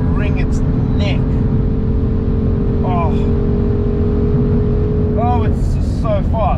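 A BMW M440i xDrive speeds along with a loud, steady engine and road roar filling the cabin, while someone talks excitedly over it.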